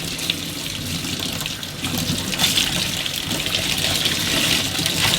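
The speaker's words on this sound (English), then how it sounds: "Keep rinsing out, flushing water through, squeezing it until the water runs clear." Steady gushing tap water rinsing through a Gtech vacuum cleaner filter, close and continuous, with splashing that swells slightly as the filter is squeezed.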